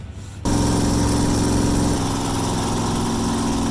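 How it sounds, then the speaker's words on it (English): A loud Jeep CJ engine starts up and runs steadily with a harsh, droning roar, close and alone, settling into an even running note. "My ears are bleeding because my Jeep is so loud."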